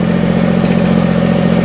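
A small diesel tractor, barely bigger than a very large lawnmower, idles close by with a steady, even rumble and no voices.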